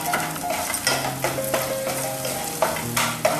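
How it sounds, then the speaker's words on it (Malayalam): Chopped curry leaves added to a hot pan, giving a continuous close sizzle and crackle, with repeated spoon scrapes and stirs against the metal and no talking. "കറിവേപ്പില ഇതിലേക്ക് ആഡ് ചെയ്യുക"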